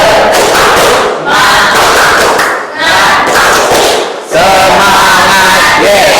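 Classroom group doing a 'tepuk semangat' clapping chant icebreaker, loud rhythmic bursts of clapping and shouted group chanting in several phrases with short pauses between them.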